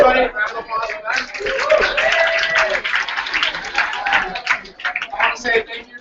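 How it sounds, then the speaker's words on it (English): Audience applause for a panel at a live youth media weekend event, a crowd clapping steadily throughout with voices talking and cheering over it. "Everybody, round of applause for them."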